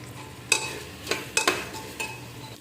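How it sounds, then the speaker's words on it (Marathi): Rice frying in oil in a pan over medium heat, a low sizzle under a few sharp metallic scrapes and clinks as a spoon stirs it, close and fairly quiet. "बस ते चांगलं फ्राय करून घेते तेलात"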